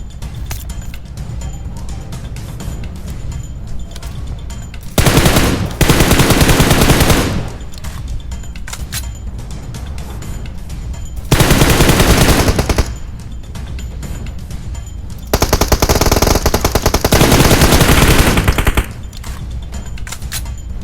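Bursts of automatic gunfire in the PUBG Mobile video game come in three loud, dense volleys, separated by quieter stretches of background game sound.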